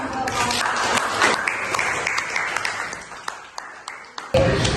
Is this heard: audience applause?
yes